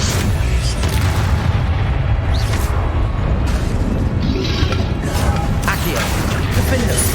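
An Incendio fire spell cast in the Hogwarts Legacy video game bursts out with booming, crackling blasts amid dense, loud combat noise, while a voice calls out briefly over it.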